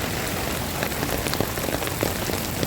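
Rain falls steadily at Muzhappilanghad beach park, a dense, even patter of drops on hard surfaces that continues with no break and no voices.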